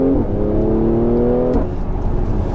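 Mercedes C43 AMG estate engine revs loud and close with a rising whine for the first second and a half, then drops into a steadier rumble as the car drives on. Nobody talks.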